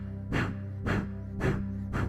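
Kapalabhati breathing, with four forceful, evenly spaced exhales pushed out through the nose, each a short breathy rush heard close and alone over a low steady hum.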